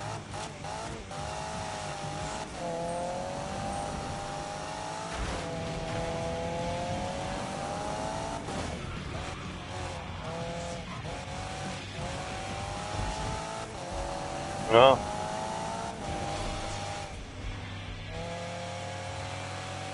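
Car drifting in a PS4 racing video game, engine revving steadily while tires squeal through long slides, with a brief sharper screech near the end, close and loud throughout.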